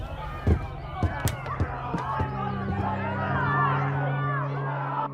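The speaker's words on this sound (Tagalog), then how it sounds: "May naririnig akong sigawan ng mga tao." A crowd of people shouting outdoors in a Philippine village, many voices calling and yelling over one another at moderate distance, with a few sharp knocks and thuds mixed in.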